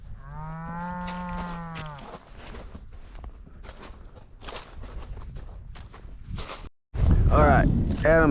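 Cattle being gathered on a fall roundup north of Reno, Nevada moo loudly, one long low call up front and another burst at the end, with footsteps and rustling in between.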